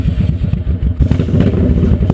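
A 1972 Harley-Davidson Ironhead motorcycle rumbles loudly and close while riding, its low engine thumping throughout.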